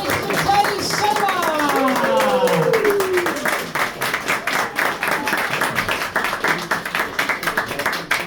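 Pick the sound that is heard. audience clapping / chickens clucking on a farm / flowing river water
audience clapping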